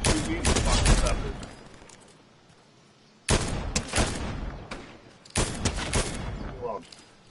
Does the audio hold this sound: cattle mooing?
no